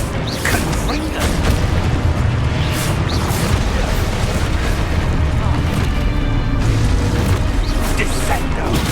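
Confringo spell blasts go off in Hogwarts Legacy amid a continuous, loud barrage of booms and crackling bursts, with spell effects and combat noise packed densely together and voices shouting over them.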